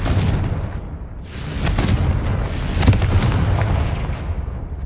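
Confringo fire spell from the video game Hogwarts Legacy, heard as a run of loud, booming blasts with sharp bursts at intervals over a deep rumbling base, close and continuous.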